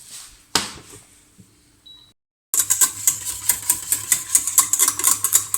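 A custard of boiled milk and egg yolks is stirred steadily in a saucepan, making a fast, regular run of close clinking and scraping strokes that begins after a near-silent stretch with a few isolated knocks.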